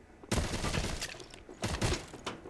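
Rapid gunfire from the video game Matrix Fire crackles in two loud bursts of close shots, separated by a brief lull and trailing off into scattered rounds.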